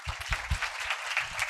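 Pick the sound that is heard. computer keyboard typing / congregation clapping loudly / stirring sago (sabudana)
congregation clapping loudly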